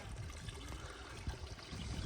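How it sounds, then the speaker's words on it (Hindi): Water seeping up out of the ground in a remote mountain forest, making a soft, constant trickle and gurgle at close range, with no speech. "अंदर से निकला हुआ है पानी भी, ये देखो है ना"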